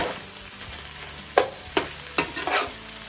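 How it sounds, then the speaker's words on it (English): Cooked rice being stirred into Thai beef fried rice in a pan, with a soft sizzle underneath and four distinct scraping strokes of a spatula in quick succession, fairly quiet and close, no voices. "I'm gonna stir it in"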